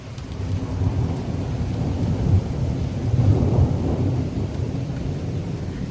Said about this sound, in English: the rain's picking up, but these gusts are still pretty strong